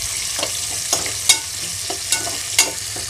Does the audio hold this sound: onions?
yes